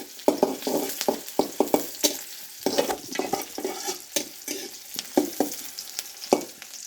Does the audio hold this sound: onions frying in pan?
yes